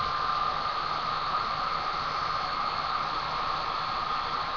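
Hair dryer blowing steadily during men's hair styling, a constant loud hissing airflow that holds unchanged throughout, with no talk.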